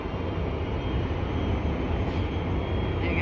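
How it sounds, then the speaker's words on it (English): A ferry's engines rumble deep and steady as it docks at a port on a stormy day, a loud continuous drone with no voices. "You can hear him revving up the engines."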